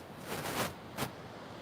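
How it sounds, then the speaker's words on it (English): Ocean surf at Pacific Beach, a faint washing hiss of breaking waves swelling twice in soft broadband surges, with no talk. "Hey, listen to that ocean."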